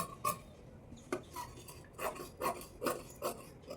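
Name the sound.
cutting blouse fabric along the marking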